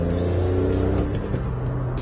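A 2012 VW Up 1.0 with 75 hp is driven on the road. Its engine makes a loud, steady drone that dips and shifts slightly in pitch, with road noise mixed in.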